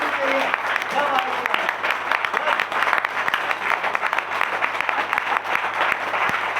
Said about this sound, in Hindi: मैं चाहूंगा और एक बार तालियां होनी चाहिए